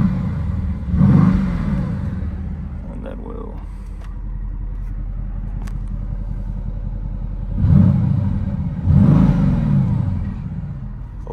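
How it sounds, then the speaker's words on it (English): A Porsche GTS with the sport exhaust revs in two loud, deep, throaty bursts, one near the start and a pair near the end, with a steady idle rumble between and someone speaking briefly over it. "A lot deeper throaty or growl that sport exhaust on."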